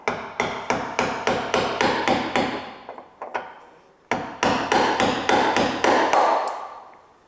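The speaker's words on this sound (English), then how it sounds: "Let me see if I can just kind of punch it out here." Sharp metallic hammer blows drive a door hinge bushing out of an 88-98 Chevy 1500 truck door, in two quick runs of about eight evenly spaced, ringing strikes with a short pause between them.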